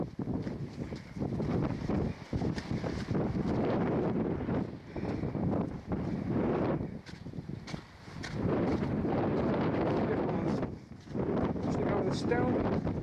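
Strong wind blasting along the Mourne Wall, a stone wall on Slieve Donard in Northern Ireland, loud sustained buffeting on the microphone that swells and briefly dips several times.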